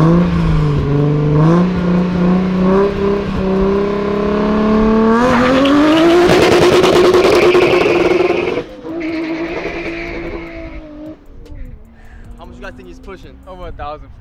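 Toyota Supra and Ferrari 488 Pista at a drag race, engines revving hard and rising through gears close by, then a sharp burst of tire noise and fading mechanical whine as they pull away.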